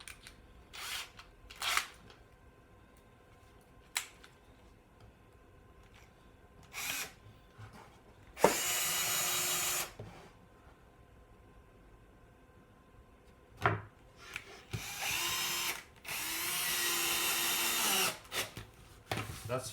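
A power drill driving screws into wood for a homemade square, with two sustained close whirring bursts of a few seconds each between scattered clicks and knocks of handling.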